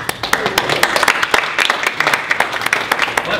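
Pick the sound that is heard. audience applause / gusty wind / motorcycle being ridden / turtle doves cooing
audience applause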